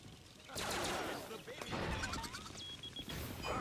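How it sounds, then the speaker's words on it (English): Rapid gunshots in the Family Guy video game, with a few seconds of dense gunfire and crashing effects that begin abruptly and stay loud, mixed with game sound effects. "Let's shoot on the candle here."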